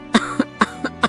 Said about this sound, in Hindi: और फिर खांसी ने उसकी बात रोक दी।